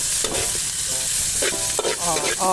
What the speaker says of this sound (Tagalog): Igisa ng sama-sama.